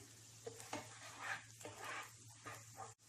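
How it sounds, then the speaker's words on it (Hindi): Finely chopped green chillies sautéing in butter with ginger and garlic over a low flame, a soft steady sizzle broken by gentle spoon stirs against the pan, close but very quiet. "2 बारीक कटी हुई हरी मिर्च भी डाल दें। इसे भी सौटे कर लेते हैं।"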